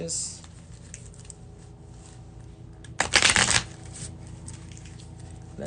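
A deck of cards gets a quick riffle shuffle, a brief loud burst of fluttering snaps lasting about half a second, with a softer shuffle earlier and a person speaking around it.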